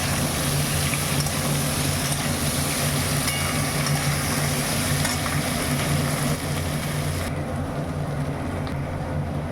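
Diced boiled potatoes frying in a pan with fenugreek give off a steady, even sizzle that holds at a moderate level throughout, with no talking.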